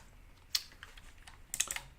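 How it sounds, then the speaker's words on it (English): Computer keyboard typing, a quiet, close cluster of irregular key clicks in two short bursts, with no voices. "So I'm using a keyboard again"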